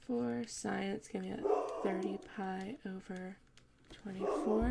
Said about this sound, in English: Sorry my dogs are barking so much in this one.